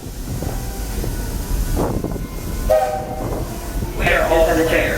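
A Walt Disney World Railroad train rolling along with steady rumble and clatter, a whistle sounding in short tones near the end, and an announcer's voice heard over the noise.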